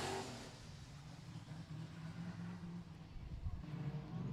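A Toyota JZX100 race car at full throttle on track, its engine a steady droning roar at speed, fairly distant and continuous throughout with no talk over it.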